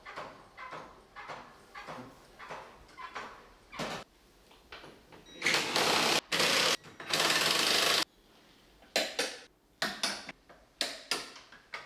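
Subframe bolts on a Maserati being tightened, with rapid ratcheting clicks in rhythmic bursts, interrupted by several loud, sustained whirring bursts from a power tool, close up and with no talking.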